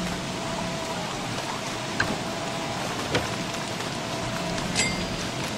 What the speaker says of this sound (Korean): 비가 너무 많이 온다